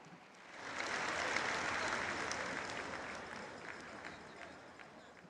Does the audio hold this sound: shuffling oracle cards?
no